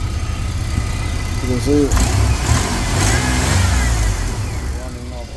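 The engine of a 2000 Chevy Astro van runs steadily with a low rumble and brief rises in revs, heard close up while someone talks over it.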